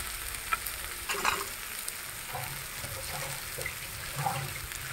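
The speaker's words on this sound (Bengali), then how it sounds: "খুব ভালো করে ফ্রাই করে নেবো।" Onion, garlic and green chillies fry in a pan, giving a steady sizzle with occasional scraping stirs and light clinks.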